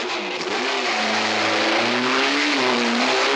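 A race car pulls out onto the course at the 1970 Sebring 12 Hours endurance race, its engine roaring loud and close with rising and shifting revs over a steady broadband rush, no voices.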